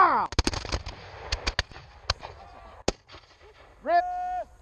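Muskets fired by Sealed Knot reenactors at Scampston: a ragged string of sharp, loud cracks spaced across a few seconds, some close together, followed by a brief horn-like tone; voices are heard faintly between shots.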